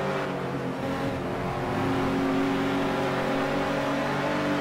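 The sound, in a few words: BMW and Rover touring cars racing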